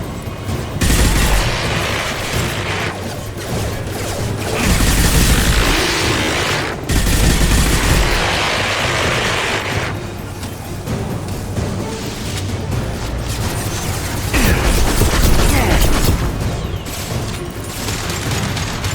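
Grenade blast and heavy gunfire during a firefight in Mass Effect 2, with loud sustained automatic shooting and booming impacts filling the whole stretch, no clear talk.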